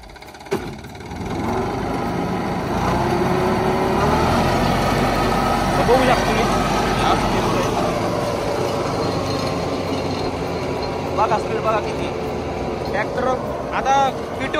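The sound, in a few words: Mahindra tractor engine running in neutral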